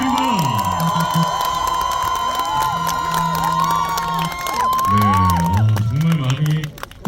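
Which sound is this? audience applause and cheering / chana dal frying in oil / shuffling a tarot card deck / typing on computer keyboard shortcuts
audience applause and cheering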